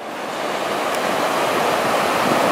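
Ocean surf breaking near the shore where a sea otter swims, a steady, loud wash of broadband wave noise that builds slightly and holds throughout, with no talking.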